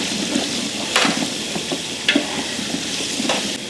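Green chilies, ginger and garlic frying in a pan for prawn pickle, a steady oily sizzle with soft scraping stirs and a few sharp clinks of the spoon against the pan, close and without talk.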